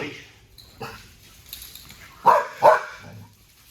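Dog barking during bite training, a couple of sharp barks close by after quieter shuffling and faint activity.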